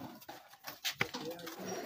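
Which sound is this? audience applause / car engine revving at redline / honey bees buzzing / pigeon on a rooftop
pigeon on a rooftop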